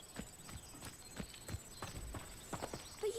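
Winged horses' hooves clip-clop in Hogwarts Legacy, a steady run of sharp hoofbeats roughly every quarter second over a soft ambient bed, with a brief whinny-like tone near the end.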